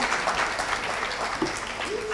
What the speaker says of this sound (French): je voudrais nous inviter encore à applaudir nos deux orateurs de ce matin